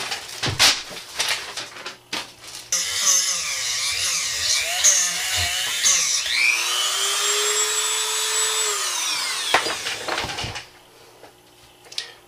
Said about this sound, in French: On va sortir le Dremel et on va nettoyer ça.